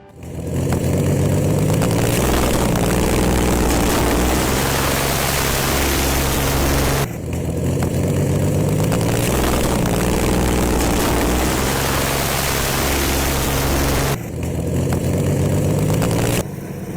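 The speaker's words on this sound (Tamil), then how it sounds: "ஜெட் என்ஜின் ஒன்று இன்ஸ்டாலேஷன் பண்ணி இங்கே இந்த டூ வீலரை எப்படி வேற லெவலுக்கு கஸ்டமைசேஷன் பண்ணியிருக்காங்கன்னு பாருங்க" A loud, steady roar from a jet engine fitted on a two-wheeler, with a droning, propeller-like hum running continuously, briefly dipping twice before surging back to full volume.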